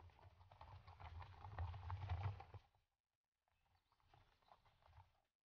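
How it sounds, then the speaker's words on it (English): Horses picking their way over rough prairie terrain, hooves clopping and scuffing in a steady uneven patter, faint and distant, stopping briefly before resuming more quietly. "I'm really impressed with these horses and their ability to negotiate this incredible terrain."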